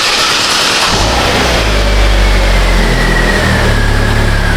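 A Chevrolet Aveo engine cranks over and fires, building into a loud, close, throaty running rumble with a brief rev before steadying, with no talking.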